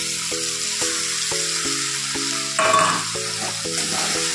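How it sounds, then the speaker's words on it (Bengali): Poppy seed paste with green chilli and ginger hits a hot pan for a Bengali posto dish, giving a steady sizzle that flares louder partway through, under light background music. "এবার আমি এই পোস্ত বাটাটা দিয়ে দিচ্ছি।"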